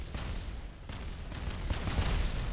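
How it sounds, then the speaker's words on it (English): A crashing rocket exploding in Kerbal Space Program, a dense rumbling roar of overlapping blasts and debris that swells slightly toward the end. "Oof, lots of explosions."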